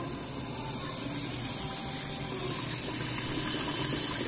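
Tap water runs steadily into a pot with water for an octopus seafood risotto, a continuous hissing splash that holds level throughout with no talking.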